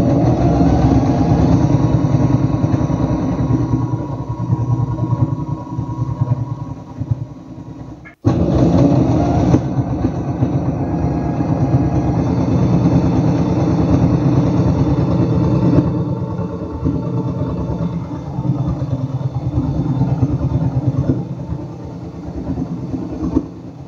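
A Singer Starlet 6680 sewing machine motor runs steadily and loudly for about twenty seconds with a dense mechanical hum and rapid needle chatter, pausing briefly once before starting up again.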